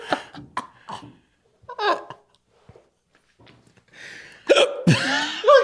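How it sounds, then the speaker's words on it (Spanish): Several abrupt hiccups break up a man's Spanish speech on a podcast, interspersed with short laughs and breaths, close and fairly loud. "con este hipo tremendo que me dio"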